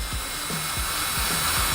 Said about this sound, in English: the drill's in low speed